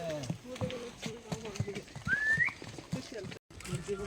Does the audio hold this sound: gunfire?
no